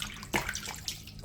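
A raw pork leg is washed under running water, a close splashing gush with a sharper splash partway through, brief and with no voices.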